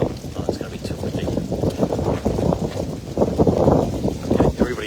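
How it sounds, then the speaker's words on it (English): Strong gusting wind buffets the microphone outdoors in a continuous rumbling roar that swells and fades, loud and close, with a few faint voices underneath. "it's going to be too windy"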